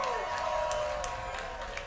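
Studio crowd cheering and applauding at a movie trivia competition event, a steady dense wash of clapping and cheers throughout, fairly loud and continuous with no pauses.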